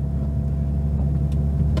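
Mercedes-AMG A45 S with its 2-litre turbo engine driving on a circuit, a loud, steady low engine and exhaust drone heard close, with a couple of faint higher crackles near the end.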